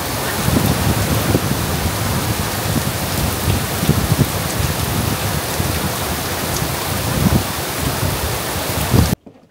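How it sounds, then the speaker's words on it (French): Heavy morning rain pouring down steadily at Staniel Cay, a dense continuous hiss with low rumbling patter on surfaces, ending abruptly. "C'est la plus grosse pluie qu'on ait eue"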